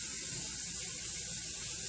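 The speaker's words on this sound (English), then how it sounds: "Let me rinse my hand off." Water runs steadily from a kitchen tap over a hand being rinsed, a continuous bright hissing splash that lasts throughout with no talk.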